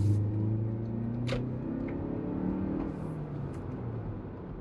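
A Lexus RX300 SUV accelerates slowly in normal mode, a steady droning engine and road rumble heard from inside the cabin, with faint gear-like shifts in pitch and no talk.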